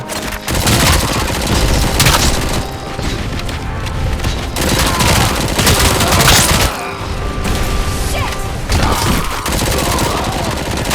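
Sustained enemy gunfire in the RoboCop: Rogue City game on PS5, a dense, loud fusillade of rapid overlapping shots and booming impacts that continues almost without pause, with brief dips before the firing surges again.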